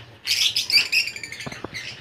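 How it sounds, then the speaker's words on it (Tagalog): Birds chirp in quick, high bursts, several twittering calls overlapping close by, with a faint low hum underneath. "Ang ating mga ibon."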